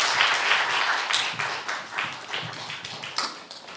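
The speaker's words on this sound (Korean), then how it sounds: "우리 다시 한번 박수하겠습니다" Scattered applause from a small church youth-service congregation, loose irregular claps fading somewhat over a few seconds, moderately close with no talking.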